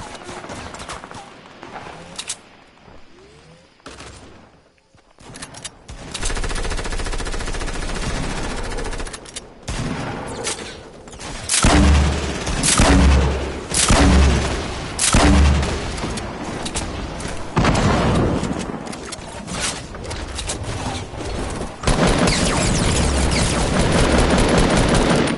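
Rapid video game gunfire with heavy rocket launcher explosions, loud and dense, with bursts of automatic fire and booming low-end blasts running almost continuously across the stretch.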